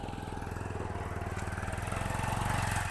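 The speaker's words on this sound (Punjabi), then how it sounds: "ਮੋਟਰਸਾਈਕਲ ਉੱਤੋਂ ਆਉਂਦੇ ਪਏ ਵੀ" Motorcycles rumble close by in a village, a steady pulsing engine drone rising gradually in loudness as they approach.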